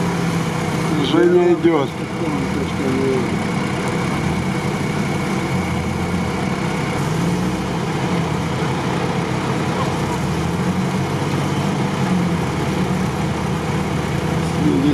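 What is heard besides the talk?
Someone's scooter passing by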